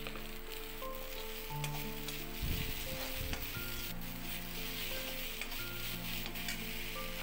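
Boiled potatoes and a little salt go into a hot, sizzling pan, giving a steady frying hiss with a brief burst of stirring and rustling in the middle, close and quiet, no voices.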